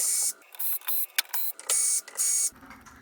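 Power drill or screwdriver backing screws out of a plywood mold, several loud whirring bursts of about a quarter second each separated by short pauses and small clicks, close up with no voices.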